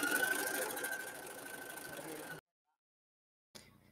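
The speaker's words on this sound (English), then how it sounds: "I'm just going to press the stop start and do the second embroidery" Husqvarna Viking embroidery machine stitching a flower petal outline, a rapid steady whirring hum that cuts off abruptly, leaving near silence before faint sound returns.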